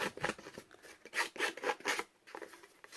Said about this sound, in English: use my scissors and distress the outside of my bricks a little bit